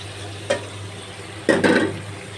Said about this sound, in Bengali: দিয়ে একটু নাড়াচাড়া করবো নাড়াচাড়া করে মশলাটা মিশিয়ে নেব ভালো করে